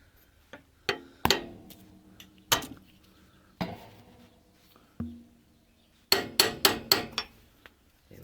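Chisel tapping the corner of a metal trailer box into place: scattered sharp metallic knocks with short ringing decay, then a quick burst of five hits near the end, all close and with no talk.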